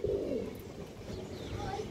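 A full down-shape pigeon with a short beak gives a low, soft coo, repeated and close, steady across the whole stretch with faint background noise.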